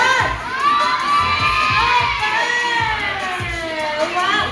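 Children in a kids' play area shout together loudly after a countdown, a sustained crowd of young voices cheering and yelling close by.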